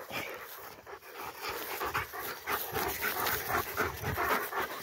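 A Rottweiler pants rapidly and whimpers close by, quick rhythmic breaths mixed with brief high whines while descending a tower, fairly quiet with no talk.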